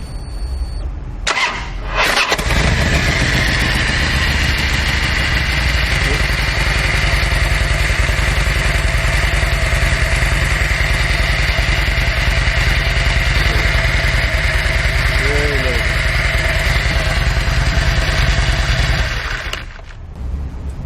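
A big twin motorcycle engine fitted with a primary chain tensioner cranks and fires up, then runs at a loud, steady idle for about seventeen seconds before shutting off.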